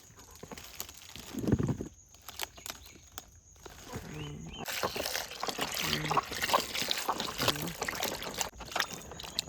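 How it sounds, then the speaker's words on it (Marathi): Washing water poured from a vessel onto the roots of a chikoo tree, an uneven splashing trickle that swells and fades, with a burst of handling noise partway through. "चिकूच्याच मुळामध्ये आपण आता हे ओतणार आहोत पाणी"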